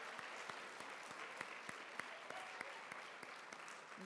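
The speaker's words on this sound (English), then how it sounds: "let's give these incredible students another big round of applause" Audience applauding student contestants after a trivia round at a charity challenge finals, many hands clapping in a steady, moderately distant round with a few sharper individual claps standing out.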